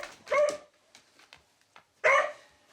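Dogs in a household of seven, including a Yorkshire Terrier, giving two sharp close barks about a second and a half apart, with faint yips and whimpers between them.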